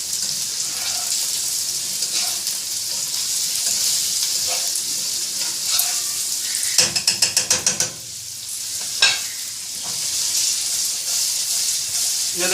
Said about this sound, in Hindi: अब इनको मसालों के साथ थोड़ा सा भून लें।